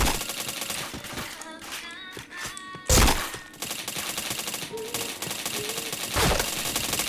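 Gunfire in a shooter video game: rapid clattering bursts of shots with two heavier, louder blasts, mixed with faint electronic game tones.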